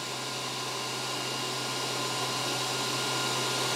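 A WULF PCP air compressor runs steadily with a constant motor and fan whir and a low mains-like hum, fairly close and unchanging throughout, with no talk.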